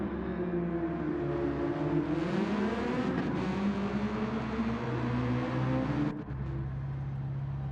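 Race cars lining up for the start at the Red Bull Ring in a racing video game, on a wet track, engines droning and revving together in a sustained loud whir with rising pitch, then a sudden drop near the end.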